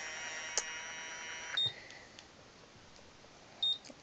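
Two short electronic beeps about two seconds apart from a Babyliss hair curler, preceded by a brief click and a fading high whine, fairly close and otherwise quiet.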